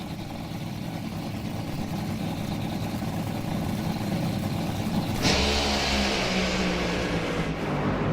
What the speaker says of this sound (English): And it's Brown hazing the tires just before the 8th mile.